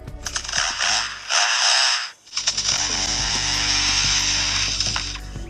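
A harsh, grinding chainsaw-like roar mimicked by a lyrebird, loud and close, in two long bursts separated by a short pause.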